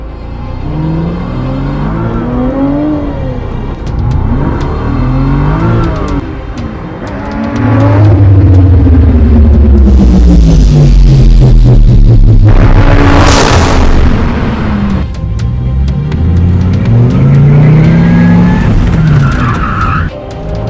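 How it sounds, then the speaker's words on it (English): A loud sports car roars past, its exhaust rumbling and revving as it accelerates, with tire noise and a sweeping rise and fall as it passes close by. "I'll go by real quick so you can hear it, because the exhaust is pretty good on this"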